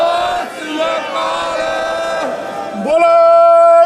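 A crowd at a Kisan Ekta farmers' solidarity rally in Hamburg, Germany shouts the Sikh jakara war cry in unison, with a loud lead voice calling out and many voices answering in a long, sustained roar.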